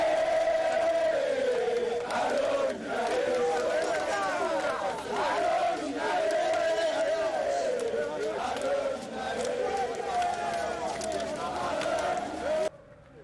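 A large crowd of Congolese cheers and chants for the president at Stade des Martyrs, a loud, dense mass of voices sustained throughout with rising and falling surges, cutting off abruptly near the end.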